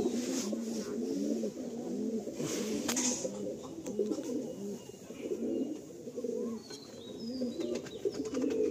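Madrasi pigeons at a sale in Baruipur coo in repeated low, throaty rolls, several birds overlapping continuously and close by, with a few faint chirps and scratches in the background.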